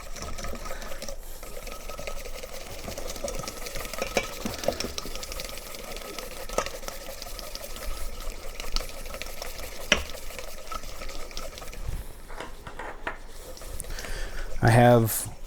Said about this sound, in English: we're going to want to get these egg yolks whisked up